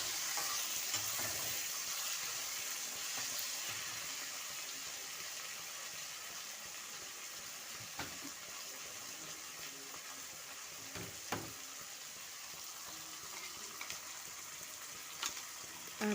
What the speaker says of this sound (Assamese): এতিয়া বিলাহীখিনি ধুনীয়াকৈ সিজি যাব।